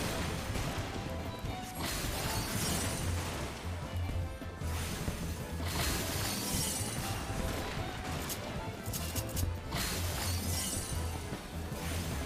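A giant ice bomb in Final Fantasy XIV: Shadowbringers, during the Moonfire Faire festival event, bursts in repeated loud, glassy shattering crashes over a dense, busy game soundscape.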